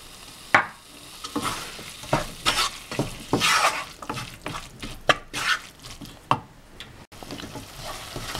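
Tomatoes and salt cook in a pan for paneer tikka masala, with loud sizzling broken by repeated scraping stirs and knocks of a spoon against the pan, close up with no speech.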